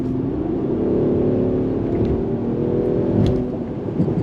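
A Mercedes-Benz CLS 450 with a 3.0 inline six accelerating hard, heard from inside as a steady rising engine drone with a smooth whir, building in pitch and holding loud without break.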